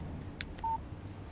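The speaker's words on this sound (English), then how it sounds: "Text message from Barry." A phone text message alert in the Alan Wake video game, one short electronic tone over a steady low background hum.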